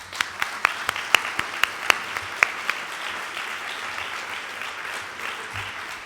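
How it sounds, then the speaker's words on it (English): Audience applause for graduates at a graduation and inauguration ceremony. A few crisp, distinct claps lead into a dense, sustained round of clapping that holds steady at moderate loudness. "I think we owe you a round of applause."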